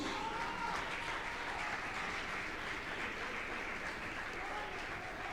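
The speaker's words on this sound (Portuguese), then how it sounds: "Pode aplaudir o nome do Senhor Jesus." Steady applause from a church congregation, a dense wash of clapping heard from a distance, even in volume throughout.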